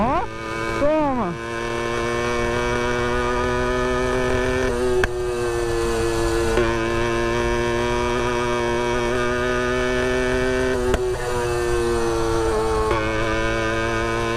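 Motorized Brandani Cross bicycle engine with a spark plug fitted in the exhaust, running loud and close as a steady buzzing drone, a quick rev near the start and small pitch dips as it holds.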